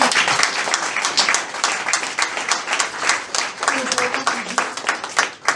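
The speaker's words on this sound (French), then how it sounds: "Acclamons très fort pour nous." A church congregation claps loudly and continuously, many hands forming an irregular, rippling burst of applause that holds at full strength throughout, with some voices mixed into the crowd.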